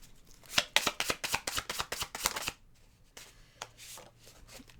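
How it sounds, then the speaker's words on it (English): Tarot cards being shuffled by hand: a quick run of crisp riffling flutters and taps for about two seconds, then a few softer shuffles, close and fairly quiet. "Let's pull some cards for them."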